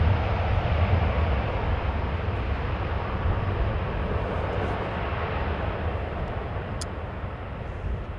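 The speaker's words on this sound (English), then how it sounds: "next up is another Transavia airplane flying for KLM" A Transavia airliner operating for KLM passes at Amsterdam Schiphol Airport, producing a steady broadband jet roar that holds loud and continuous and eases off slightly toward the end, with no talk over it.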